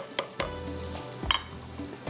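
Butter melts and sizzles with onions in a hot pan, a steady frying hiss broken by a few sharp clinks of a utensil against the pan, close and clear with no talk.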